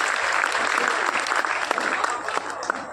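Audience applause at a kavi sammelan (poetry gathering) in Ratangarh, a dense, steady wash of many hands clapping close by, sustained without a break.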